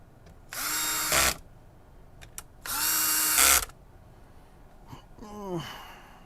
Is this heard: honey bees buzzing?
no